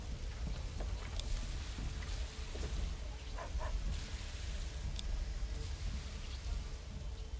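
Steady rain falls in the medieval city-building game Manor Lords as an even hiss, with scattered pattering drops and a few soft knocks, constant and moderately loud, with no talking.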